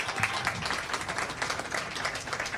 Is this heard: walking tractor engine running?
no